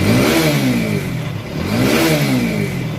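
A TVS Apache RTR motorcycle engine revs up twice in quick succession, the pitch climbing and dropping each time, loud and close.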